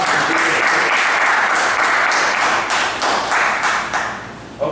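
Loud, dense crowd applause greets the DJ, a steady wash of many hands clapping close by that fades slightly toward the end, with no talk over it.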